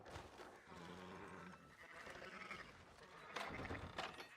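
Sheep in Red Dead Redemption 2 bleating faintly through a quiet farm scene, several wavering calls blending with low background ambience and a voice.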